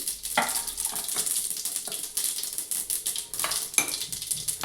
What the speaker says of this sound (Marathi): चला आता आपण तेल टाकूया